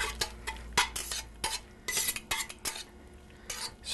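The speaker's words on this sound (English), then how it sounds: "stir those again to make sure there's plenty of butter coating them." Buttered noodles stirred in a pan, with a utensil scraping and clinking against the metal in quick, irregular strokes, close and fairly loud with no talk.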